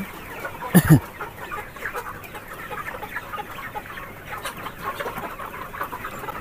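Colour bird chickens on a poultry farm cluck, with one sharp, loud squawk early on, then scattered softer clucks over a steady background of flock noise.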